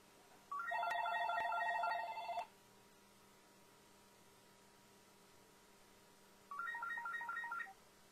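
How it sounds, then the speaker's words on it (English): Telephone ringing indoors, two separate electronic ring bursts a few seconds apart, the first about two seconds long and the second shorter, clear over a low steady hum with no talk. "and the phone rings"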